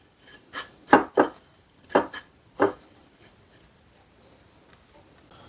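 Breadcrumbs pressed onto a pork cutlet for Korean dongaseu, heard as a run of soft crunchy presses close up, about five in quick uneven succession, then quieter scattered rustles.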